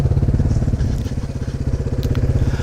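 A motorcycle climbs a small hill in first gear, its engine chugging loud and close in a steady, fast, low pulsing rhythm throughout.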